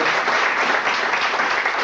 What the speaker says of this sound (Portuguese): Um aplauso ao Senhor.